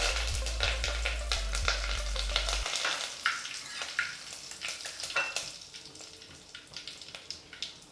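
Curry leaves hitting hot oil already crackling with popped mustard seeds, asafoetida and cumin while tempering Gujarati dal dhokli: a close, steady sizzle with sharp spitting crackles and a few stirring scrapes, with a low hum over the first few seconds.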